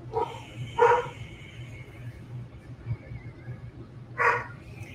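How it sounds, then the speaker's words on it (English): Excited puppies bark indoors in three short, sharp bursts, one at the start, another soon after and a third near the end, fairly faint over a quiet room hum. "I'm going to mute myself since my puppies are getting excited"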